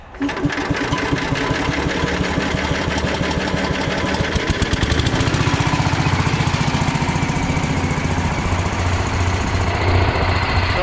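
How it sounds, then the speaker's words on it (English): A welder's engine cranks and catches, then runs steadily at a loud, close rumble with a rapid rhythmic knock throughout, no talking over it. "So I'll go give her a start and we'll see what we get up to right away."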